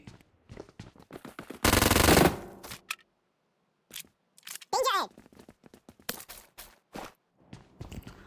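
BGMI gameplay gunfire: one long, loud burst of automatic fire, then a few single shots, mixed with in-game footsteps and clicks and a short voice, all close and crisp.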